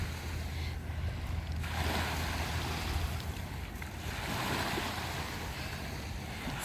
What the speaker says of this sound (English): I could hear the waves from the trail